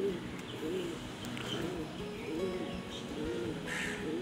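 Pigeons, a top-quality black-green pair of old bloodline birds, coo in repeated low rolling calls against a steady background hum, fairly close, with no talking heard.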